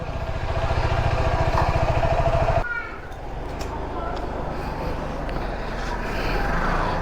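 An Adventure 250 motorcycle idles nearby with a steady, pulsing thump that is loud at first and then settles lower under a person talking.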